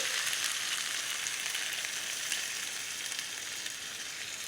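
Red duck curry with coconut milk sizzles steadily in a pan while being stirred, a dense bright hiss that stays loud and even throughout with no voices.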